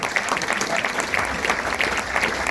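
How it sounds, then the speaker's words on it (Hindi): A seminar crowd in Mumbai applauds, a dense, continuous roar of clapping from many hands, steady and fairly loud across the short stretch. "तालियां बज सकते जोरदार।"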